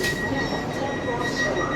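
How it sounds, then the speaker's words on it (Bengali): Rumbling inside a Vande Bharat sleeper train as it departs Bandel station, a steady close roar of wheels and carriage with a faint high whine, no speech. "ছেড়ে দিল আমাদের ট্রেন ব্যান্ডেল থেকে।"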